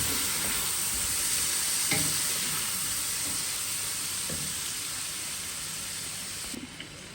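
Chopped tomato hits a pot of chicken yakhni pulao, with a steady soft sizzle and hiss of frying and occasional stirring scrapes, moderately quiet and without voices.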